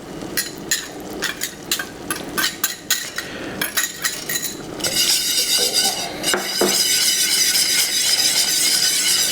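Chopped livers tipped into a pot of thickening turkey gravy and worked in with a utensil, giving a run of sharp metallic clinks and scrapes against the pot, then a steadier wet stirring churn close by.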